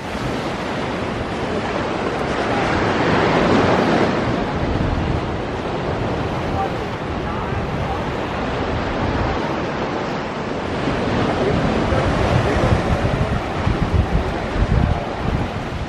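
Ocean waves wash onto Grand Turk beach beside a small jetty, making a continuous broad roar of surf mixed with gusty wind buffeting the microphone, swelling and easing throughout.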